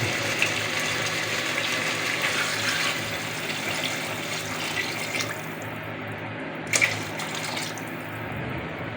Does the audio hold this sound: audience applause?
no